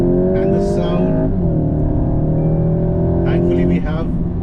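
A Volkswagen Golf GTI pulling hard at high speed, a loud sustained engine drone with steady wind and road roar, the pitch shifting slightly through the run, close and continuous.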